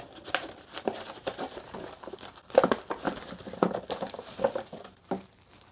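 Plastic film is peeled off a Kang Shi Fu braised beef instant noodle package, giving close, steady crinkling and crackling with sharper tearing snaps scattered throughout.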